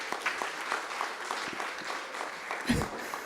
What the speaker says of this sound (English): Ladies and gentlemen, can we have one more round of applause